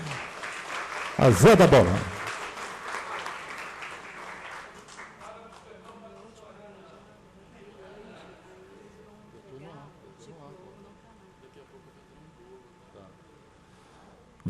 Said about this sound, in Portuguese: Salve de palmas em homenagem